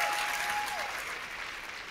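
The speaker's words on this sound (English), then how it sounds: "Please give a round of applause for Yana Khan." Dense audience applause at a keynote session in a large chamber, a steady even roar of many hands clapping for two seconds, with a faint tone sliding briefly beneath it.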